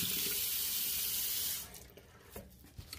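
Hands are rinsed under a running tap, a loud steady hiss of water pouring into a sink for about a second and a half before it shuts off, followed by a few faint drips and small handling clicks.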